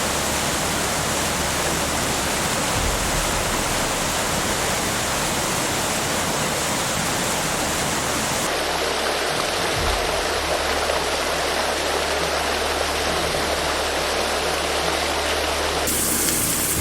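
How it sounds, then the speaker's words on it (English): Floodwater rushing steadily through a residential compound in China, a loud continuous roar of flowing water that drops in intensity partway through and carries on, with no voices. "洪水已经灌进我们的小区"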